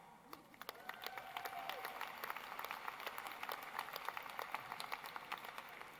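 Crowd at a medical academy's fall commencement ceremony applauds steadily, a distant, faint wash of many clapping hands that holds for the full six seconds with no speech over it.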